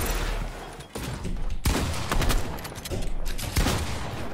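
Rapid bursts of gunfire in Fortnite, dense and loud with sharp repeated cracks across the whole stretch, no talk over it.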